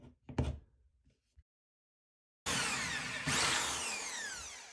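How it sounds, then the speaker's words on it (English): A power drill bores holes into a wall while fitting a Dessel LED backlight, starting after a short clatter and near-silence, then a loud continuous whine that rises in pitch and holds steady, close up. "Drilled some holes."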